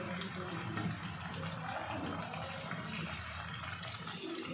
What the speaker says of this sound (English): once the bubbling sound settles completely, then you can remove the Maddur Vada